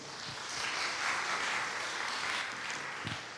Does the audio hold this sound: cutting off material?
no